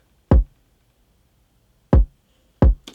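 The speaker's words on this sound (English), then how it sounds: "This kick sounds like this." Three punchy layered kick drum sample hits, deep and booming with a sharp attack, spaced unevenly with silence between, the last followed by a brief click.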